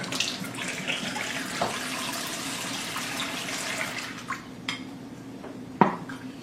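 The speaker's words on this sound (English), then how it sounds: "this is water from the faucet" Tap water running steadily from a kitchen faucet into a sink, a constant close wash of splashing with a few brief clinks of dishes near the end.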